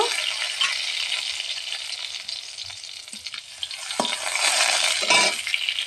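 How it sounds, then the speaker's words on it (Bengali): Cumin seeds, dried red chillies and a bay leaf sizzling in hot oil, a close crackling hiss with a few sharper pops and stirring scrapes, growing a little louder toward the end. "জিরে ফোড়ন দিয়ে দেবো দুটো শুকনো লঙ্কা দিয়ে দেব তেজপাতা দিয়ে দেব"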